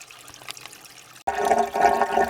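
Spring water trickles, then runs and splashes into a sump through clay, a faint drip giving way to a steadier close pour partway through.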